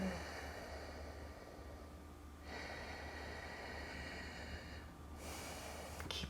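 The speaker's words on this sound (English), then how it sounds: "try to take about 5 or 6 breaths here" Slow, deep breaths during a yoga throat-opening pose, three long drawn airy exhalations close to the listener, alone and fairly quiet against a faint background hiss.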